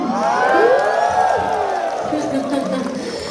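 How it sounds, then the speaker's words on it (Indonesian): A large crowd of about ten thousand at an outdoor wayang golek show at Saung Angklung Udjo cheers and whoops loudly, with shrill rising and falling shouts over the cheering and a light patter of applause. "Tepuk tangan yang sangat meriah untuk kita semua."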